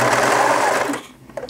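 Sewing machine stitching elastic onto swimwear runs in a fast steady whir for about a second, then stops, leaving faint handling noises of fabric and thread close by.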